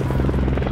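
Air support helicopter in Call of Duty MW3, its rotor thumping in a loud, steady, rapid chop that sounds close overhead throughout.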